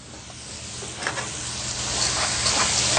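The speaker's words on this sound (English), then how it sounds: "We're going to put in our peas. Using about a pound of fresh peas." About a pound of fresh peas sizzles in a hot pot for pea soup, a close, even frying hiss that swells slightly while they are stirred, with soft scraping mixed in.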